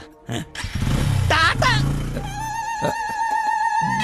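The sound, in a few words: motorcycle engine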